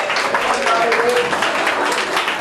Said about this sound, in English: Give this a round of applause for this lovely lady.